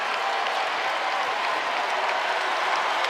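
A basketball crowd at a college game between Johnson C. Smith and North Carolina rises to its feet, cheering and applauding in a steady, dense wash of claps and voices that fills the arena without letup.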